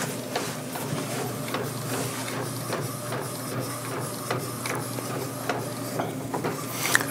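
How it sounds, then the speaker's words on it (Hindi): An Epson L805 printer prints a DTF T-shirt design onto PET film with a steady mechanical whir and faint rhythmic ticks as the print head moves across, continuous and fairly quiet throughout. "बाकी आप देखो एक बार प्रिंट देखो निकल रहा है पूरा"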